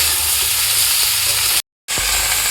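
Stone-ground ginger and green chili paste frying with spices for a mixed vegetable curry, a loud continuous sizzle and hiss close up, broken by a brief moment of silence before the frying resumes.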